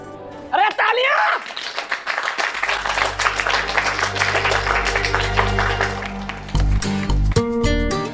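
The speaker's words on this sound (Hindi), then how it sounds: "अरे तालियां!" A classroom group in a drama scene breaks into a rapid, sustained patter of applause over background music, with voices talking before and through it.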